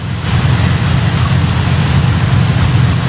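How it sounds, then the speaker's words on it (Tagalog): Steady, heavy rain falls in a continuous dense hiss with a deep low rumble underneath, loud and unbroken throughout. "Umuulan dyan, yes. Umuulan na."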